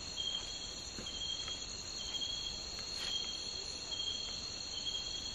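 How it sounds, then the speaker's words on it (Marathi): Crickets chirp at night around a village in the Konkan, a steady high trilling chorus with faint distant pulses, quiet and unbroken by any voices. "रातकिड्यांचा आवाज येतोय बघा."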